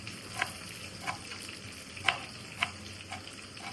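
Black fish frying in a pan with oil, a steady close sizzle broken by sharp crackling pops roughly every half second to second.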